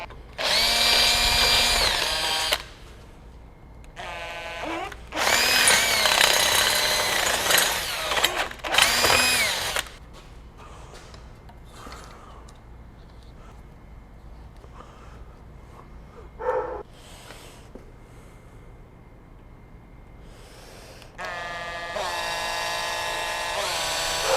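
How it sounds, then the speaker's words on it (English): A power drill whines in loud bursts, starting and stopping several times, drilling into a steel motorcycle handlebar on a 2018 Harley-Davidson Softail, with quieter clicks and handling noises between runs. "I'm going to carefully start drilling into the handlebar on my mark."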